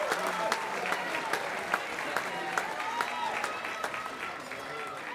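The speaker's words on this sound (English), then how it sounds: "Let's give her a round of applause" A crowd at a charity boxing fight night applauds a female fighter, scattered clapping, moderately distant and fairly faint, with voices murmuring underneath.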